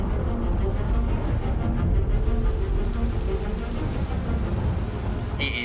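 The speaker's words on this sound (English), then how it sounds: "A huge storm." Heavy storm ambience on Pyro 1 in the Star Citizen video game: a dense, steady roar of rain with low rumbling thunder underneath, continuous and fairly loud throughout.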